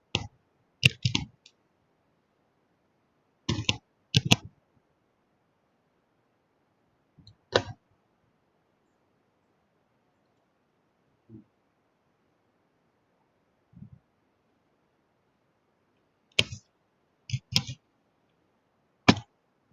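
A computer mouse clicks in short, sparse bursts of single and double clicks separated by long quiet pauses, close and crisp, as menus are opened to save a file.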